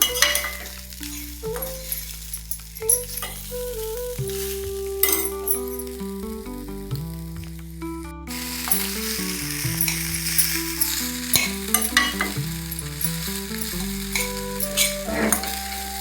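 Coconut rice seasoned with salt is stirred and mixed in a pan, with a spoon scraping and clinking against the metal over a soft sizzle, while music plays in the background throughout.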